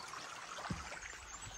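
A small creek on a hiking trail in the Boundary Waters wilderness trickles and gurgles softly and steadily, a faint, continuous water sound with no talking.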